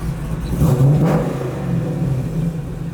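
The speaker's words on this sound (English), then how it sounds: "I'm gonna hop in and I'm gonna rev it a little bit for you boys" A race car engine revs up loudly nearby, climbing in pitch then settling into a steady, throaty idle rumble.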